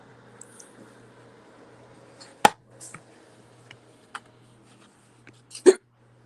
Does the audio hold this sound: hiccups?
yes